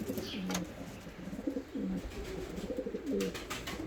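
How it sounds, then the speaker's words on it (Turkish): Ardioza posta pigeons in a loft give clear, close, low coos in short repeated bursts, several overlapping calls spaced through the clip over a quiet room background. "Ardioza posta kuşları arkadaşlar."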